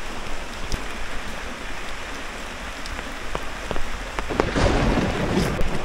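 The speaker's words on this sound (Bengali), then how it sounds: "যখন থেকে এসছি তখন থেকে কিন্তু প্রচণ্ড বৃষ্টি" Heavy monsoon-season rain in the Darjeeling hills, a dense continuous roar of downpour close by, with scattered drips and a few sharper knocks, intensifying near the end.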